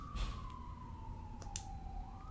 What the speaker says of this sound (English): Oh, you can hear the sirens.